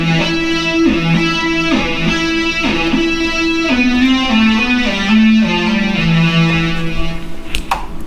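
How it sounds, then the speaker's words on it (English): A Moog Poly D synthesizer played through its distortion effect gives a gritty, buzzy series of notes that step and slide in pitch. It sounds loud and close, with no talking. "Now I can hit the distortion on."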